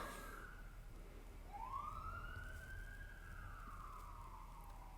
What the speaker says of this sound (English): I don't know if you guys heard the sirens